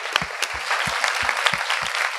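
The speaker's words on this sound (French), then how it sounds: "On peut l'applaudir." An audience applauds a speaker at a live French mentoring event, with brisk, dense clapping throughout and some sharp, distinct claps standing out near the front.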